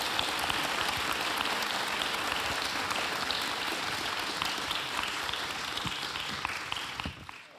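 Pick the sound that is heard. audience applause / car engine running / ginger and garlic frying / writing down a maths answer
audience applause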